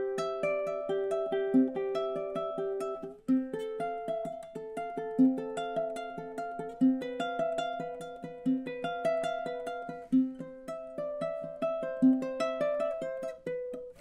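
Bach cello prelude played fingerstyle on ukulele, a steady stream of plucked notes across all four strings ringing into one another, clear and alone without talk.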